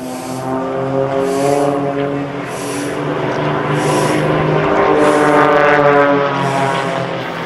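A loud, droning aircraft engine roars continuously overhead during air show rehearsal flights over the Krishna riverbank in Amaravati, its pitch shifting slightly as the plane passes.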